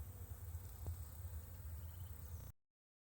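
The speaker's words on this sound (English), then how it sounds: "there's a few bees flying" Several honeybees hum low and steady close to a hive in the morning, a continuous buzzing drone that stops abruptly.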